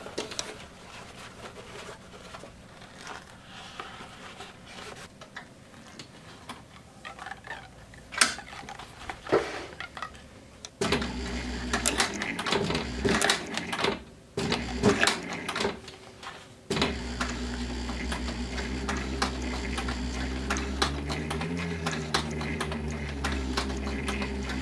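An industrial sewing machine stitches through a leather hat patch, quiet at first, then running loud and steady with a mechanical whir in two long stretches, broken by a brief pause near the corner.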